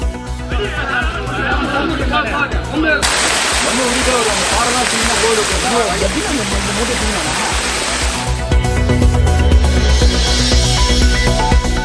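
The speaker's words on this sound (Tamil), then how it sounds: "கொட்டும் மழையில் திருவண்ணாமலையில் மலை மீது ஏற்றப்படும் கொப்பரை." Heavy rain pours down at Tiruvannamalai during the Deepam festival season, a steady dense hiss that swells loud through the middle, with faint crowd chatter mixed in beneath.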